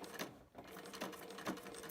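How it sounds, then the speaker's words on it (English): A sewing machine top stitching along the shoulder of a chore jacket, a quiet, steady rhythmic whirr with small dips and surges as the stitching runs. "I'm top stitching the shoulder"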